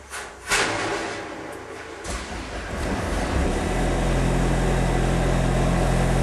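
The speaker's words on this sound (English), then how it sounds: "It'll stay in this idle position for a few seconds, 15-20 seconds or so" A Diimon Evolve spray foam rig's generator starts after a few clicks and brief whirring, then settles into a loud, steady low idle that continues to the end.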